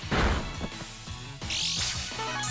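A Tackle attack lands in Pokemon Shield, a sharp game hit effect with a loud smack and crash over the in-game battle music, followed by a bright high chiming flourish.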